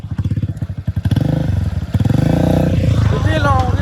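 A motorcycle with its silencer cut off runs steadily close by, the engine rising and settling as the bike moves along, with a voice talking over it.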